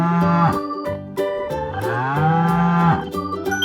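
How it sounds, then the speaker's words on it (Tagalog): A cow lets out a long, loud moo, its low drawn-out call wavering in pitch and standing alone over a bright, steady backing tune with a clicking beat. "cow."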